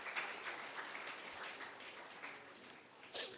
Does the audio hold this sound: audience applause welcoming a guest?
yes